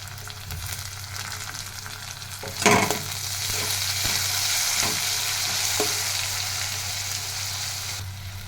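Onion and tomato sauté in a pan for a bell pepper (Shimla mirch) curry with a steady broadband sizzle and a few sharp spatula scrapes and clinks partway through, the frying growing slightly louder after the first scrape.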